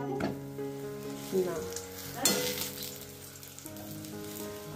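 Luchi frying in hot oil, a continuous crackling sizzle with bursts of bubbling as dough hits the oil, close and fairly loud, while a voice talks briefly over it.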